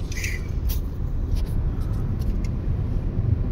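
Inside a car on Lucknow Outer Ring Road, a steady low road rumble and engine drone run throughout. A few faint higher ticks sit on top, with no talk.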